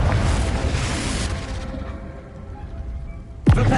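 A Confringo blasting spell goes off in Hogwarts Legacy, a loud booming burst that rumbles and decays over a few seconds, followed by a sharp new blast near the end.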